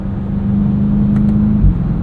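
A 2023 BMW X7 M60i SUV drives on at night, its engine note a steady low drone with a smooth, constant hum and a slight swell near the end, heard from inside the cabin with no talking.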